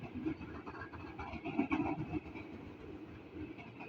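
Train rumbling at a station near Karet or BNI City in Jakarta, a faint, continuous low roll with slight clatter heard from some distance.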